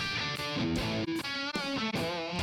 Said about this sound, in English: in the millennia, we get a wider frequency spectrum and even tighter distortion.